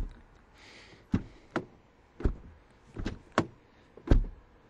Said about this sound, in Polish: jak w ogóle tutaj otwierają się i zamykają drzwi